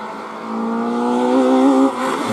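A Citroën Saxo rally car at a hill climb race revs hard, its engine note rising steadily and loud before dropping off sharply near the end, with no voices.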